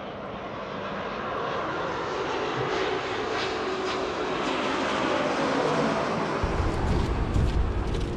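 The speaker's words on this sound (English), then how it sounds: "we've got planes coming overhead right like this" A fixed-wing airplane passes overhead near a landing strip in Tokyo, a loud steady broadband engine roar that holds for the whole stretch and swells slightly, with a deeper rumble entering near the end; no voices.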